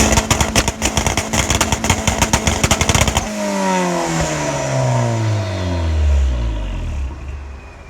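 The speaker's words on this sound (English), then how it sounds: "I'm gonna go ahead and do a little launch control" Turbocharged car engine held at launch control with eBay turbo making about 6 psi boost, a close, loud, choppy rev-limiter stutter for three seconds, then smoother revving that rises and falls with engine speed.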